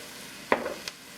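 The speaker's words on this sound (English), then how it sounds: "So I'm just going to put a little bit of butter, add our veggies" Vegetables dropped into butter in a soup pot, giving a brief soft stir-and-sizzle burst followed by a small second clink, then quiet low hiss.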